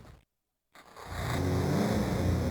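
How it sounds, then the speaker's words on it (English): Motorcycle engine starting up and revving in a garage in the Silent Hill Game Boy Advance game, a short silent gap followed by a low, steadily building engine roar that holds. "Sybil straddles the motorcycle in the garage, inserts the key, and revs the engine."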